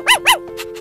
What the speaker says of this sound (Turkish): Hayır, aptal köpek, çekil yolundan, çekil, hayır!